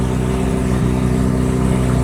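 Ferrari California engine at a San Clemente cars-and-coffee meet, a steady close, loud mid-pitched drone that holds for two seconds without a clear rev spike.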